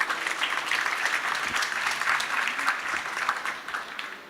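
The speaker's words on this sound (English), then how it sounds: "A round of applause." An audience at an urban development conference claps steadily for several seconds, the applause swelling slightly and then tapering off toward the end.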